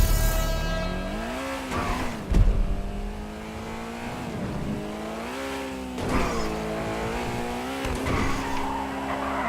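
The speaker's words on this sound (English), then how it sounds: "Let's see how well this car handles." A Pegassi Toros SUV in GTA 5 revs and shifts through its gears, and its tires squeal and skid through hard turns. The engine is loud and close, rising and falling in pitch, with no talking.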